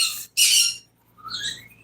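Agitated pet birds indoors let out a loud, harsh squawk, then a shorter rising call after a brief silence.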